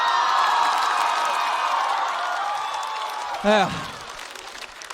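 Audience at a stand-up comedy competition applauds and cheers in a steady, dense wash of clapping and crowd noise, with one voice briefly exclaiming partway through.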